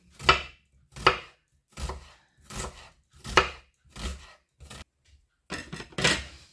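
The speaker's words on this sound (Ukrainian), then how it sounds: "І беремо синю цибульку і нарізаємо її не напівкільцями, а отакими пір'їнками, пір'ячком таким." A knife slices a red onion into thin feather-like strips on a board, giving about nine crisp, separate chops at an uneven pace, close and clear with no talking.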